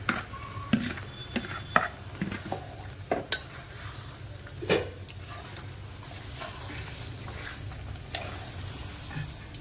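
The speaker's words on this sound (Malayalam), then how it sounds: "നമുക്ക് ഇതിനകത്തിട്ട് ഇങ്ങനെ ഇളക്കി അതും എടുക്കണം" Chicken marinated in yogurt and turmeric is stirred into a masala for a Punjabi chicken gravy, giving a soft sizzle under repeated spoon scrapes and knocks against the pan, close and without speech.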